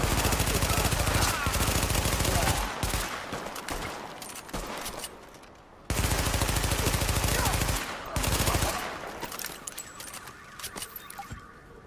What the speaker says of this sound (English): what gun is this? The Navy MP5.